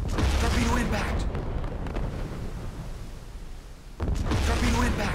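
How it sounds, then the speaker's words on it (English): Heavy booming torpedo impact explosions in the Silent Hunter 4 submarine game, two loud, deep blasts with a quieter low rumble between them. "Torpedo impact."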